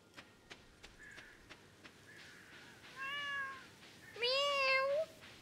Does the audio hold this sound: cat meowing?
yes